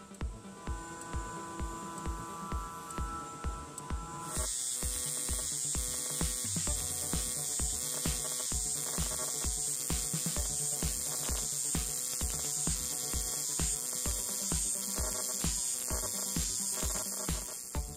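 A TIG welder on a pulse setting welds thin aluminum sheet, giving a steady electric buzz beaten by a fast, regular pulsing. The tone shifts and brightens a few seconds in, then carries on evenly with no talking.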